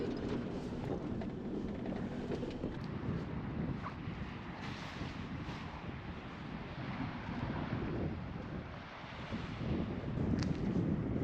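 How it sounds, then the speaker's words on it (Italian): Strong wind roars continuously beneath wind turbines on Crete, buffeting the microphone with a heavy, rumbling rush that barely lets up. "Ovviamente c'è il vento perché siamo sotto ai mulini a vento"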